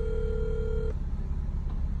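A telephone tone rings out on an outgoing call, one steady electronic burst lasting just under a second before cutting off, over a low background rumble, with no talking.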